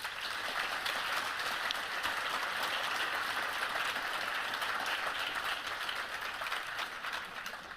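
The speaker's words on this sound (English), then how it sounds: "please let's give them a big round of applause" An audience at a climate action showcase event applauds in steady, sustained clapping from many hands that fills the whole stretch and fades slightly at the end.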